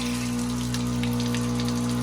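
Water runs from a newly fitted 12V pump in a camper trailer, a steady hiss and splash over a constant low hum that carries on unbroken throughout.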